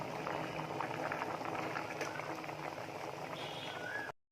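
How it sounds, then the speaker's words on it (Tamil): Kadalai sundal curry bubbles steadily at a rolling boil in a pot, dense popping and gurgling close by, continuous for several seconds before cutting off abruptly. "நல்லா கொதிச்சிருச்சு."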